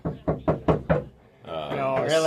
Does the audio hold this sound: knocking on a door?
yes